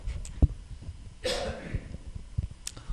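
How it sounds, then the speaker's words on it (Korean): Single harsh cough from a lecturer with a tickly throat, loud and close, after a small click and throat noise and followed by quiet room sound. "기침해서 큰일 났네요."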